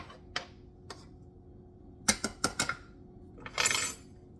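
A spoon scrapes in a dish during jerk sauce preparation: a few sharp, quiet clinks spaced apart, then a cluster of quick taps and a short scrape near the end, with no talking.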